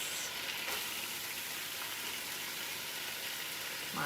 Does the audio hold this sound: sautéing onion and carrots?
yes